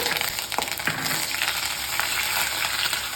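Steady crackling sizzle of chana dal and dried red chillies frying in hot oil, with a few sharp pops and a brief clink near the start, close and fairly loud.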